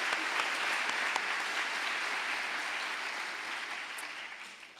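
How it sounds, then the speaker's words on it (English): Audience at an awards ceremony for volunteers gives a sustained round of applause, dense and even, slowly fading toward the end. "Please give them a round of applause."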